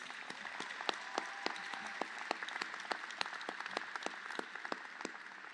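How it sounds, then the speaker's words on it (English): A commencement audience gives a round of applause, steady scattered clapping heard from a distance at moderate-low level, with individual sharp claps standing out across the whole stretch. "Please give her another round of applause."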